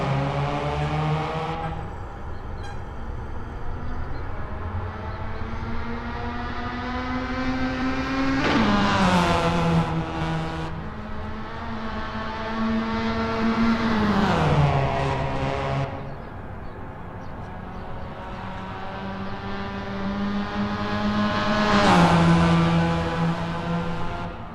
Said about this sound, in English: Puppy Dog from Hell is getting to grips with the Formula Mazda in this practice session.